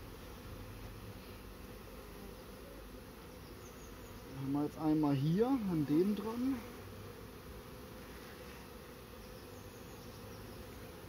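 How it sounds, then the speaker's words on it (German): A honey bee swarm hangs outdoors in a public place, its steady soft buzzing running under a man's German speech. "Schöner Bienenschwarm natürlich"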